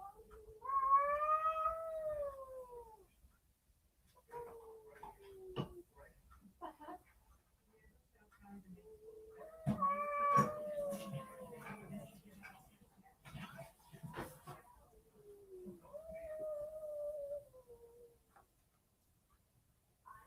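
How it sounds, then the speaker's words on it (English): A cat meows repeatedly in long, wavering yowls spaced a few seconds apart, with soft clicks and faint background noises between the cries. "It's meowing like that. Who is meowing like that?"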